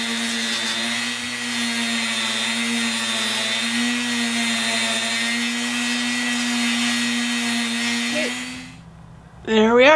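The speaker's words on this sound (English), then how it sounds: "gonna clean up the corners and stuff a little bit with the Dremel." A Dremel rotary tool cleaning up the corners of a homemade embroidery frame for a multi-needle machine, a loud, steady high-pitched whine held close for about eight seconds before cutting off.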